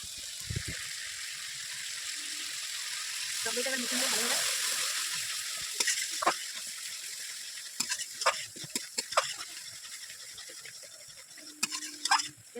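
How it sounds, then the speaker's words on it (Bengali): Masala with sour curd fries in oil in a pan for a fish curry, a strong sizzle swelling then settling as a spoon clicks and scrapes in quick bursts, with someone talking over it. "এই যে দই দেওয়ার পরে কিন্তু ভালো করে কষিয়ে দিতে তেল তেল উঠে গেছে"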